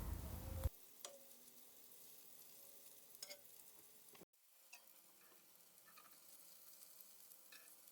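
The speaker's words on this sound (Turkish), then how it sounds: "köftelerin hepsini tavaya alıyorum. Şöyle yarı bir şekilde kızartıyorum." Köfte meatballs half-frying in a pan: a faint, steady sizzle with occasional soft clicks and taps from the pan, heard alone.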